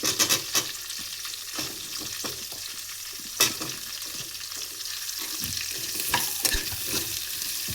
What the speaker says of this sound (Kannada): ಸೊ ಈರುಳ್ಳಿ ಕಲರ್ ಚೇಂಜ್ ಆಗೋವರೆಗೂ ಫ್ರೈ ಮಾಡ್ಕೊಳ್ಳಿ.